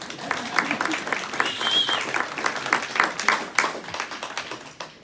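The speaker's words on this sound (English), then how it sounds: "You can clap." An indoor audience at a poetry reading breaks into sustained applause, a dense patter of many hands clapping at moderate loudness for several seconds, tapering off at the end.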